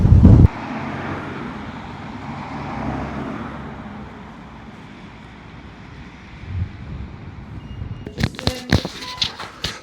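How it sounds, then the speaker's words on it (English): Steady outdoor wind on a cold, blustery day buffets the microphone as a continuous rushing roar, with a loud gust at the start and clattering handling knocks near the end. "So it's quite windy outside"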